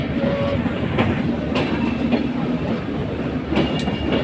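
A train rolls past close by at a railway level crossing in Rajbari district, Bangladesh, its low rumble and rhythmic clatter of wheels on rails continuous throughout, with occasional sharp metallic squeals.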